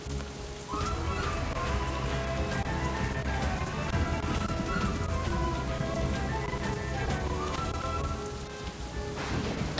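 Steady rain weather effect in the city-building video game Townsmen, a dense continuous patter of raindrops with rumbling low undertones, with a layer of game music or ambience, fading slightly near the end.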